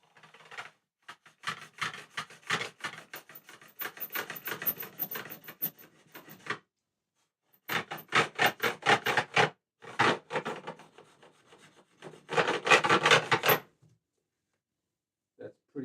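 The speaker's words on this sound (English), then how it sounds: "Just leveling those frets, getting the edges done, and getting the bevels on those fret ends as well." A luthier files custom guitar frets level and bevels the fret ends, making bursts of quick rasping strokes in close, dry rhythmic runs separated by short pauses.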